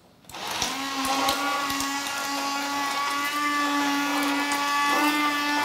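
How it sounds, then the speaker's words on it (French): Immersion blender whirring as it purées cucumber velouté soup, starting abruptly and holding a steady, close, high-pitched motor whine with slight strain changes. "Nous allons mixer le velouté."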